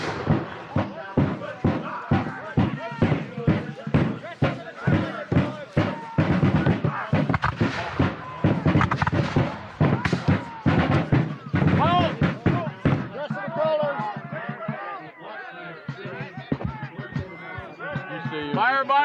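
Musket fire at a Revolutionary War reenactment battle at Mount Vernon, a rapid series of loud, close booming shots in ragged succession, then shouted commands and voices over fainter distant reports.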